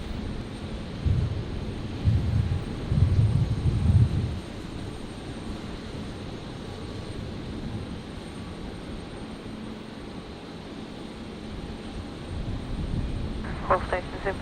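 A China Airlines Airbus A350 arrives at Brisbane Airport, a steady distant jet rumble and roar carrying throughout with a brief louder swell early on, while soft voices talk over it.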